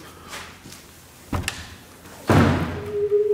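A heavy door in a haunted-orphanage horror video game swings open with a couple of dull thumps, then a loud slam-like thud followed by a short creaking drone, all close and without talk.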